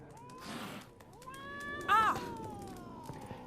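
A cat in the video game The Witcher 3 gives a clear rising meow near the middle, alongside softer mewing sounds and a little background ambience, with a voice speaking nearby.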